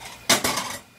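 A ceramic plate set down on a kitchen counter while a bibim milmyeon noodle dish is prepared makes two quick, close clattering knocks that ring briefly and fade.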